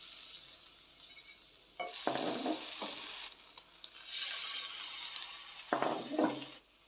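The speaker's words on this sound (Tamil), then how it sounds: "அதில் டிப் பண்ணிவிட்டு தவாவில் கொஞ்சமாக பட்டர் அப்படி இல்லைன்னா நெய் சேர்த்துட்டு இதை அப்படியே டோஸ்ட் பண்ணி எடுத்துக்கோங்க" Egg-dipped bread toasting in butter on a tawa sizzles in a steady hiss, with occasional scraping and stirring sounds from utensils breaking through.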